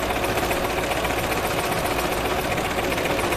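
A coverstitch sewing machine runs at a fast, even pace while stitching a knit Lucida dress, producing a continuous close mechanical rattle and hum with no pauses.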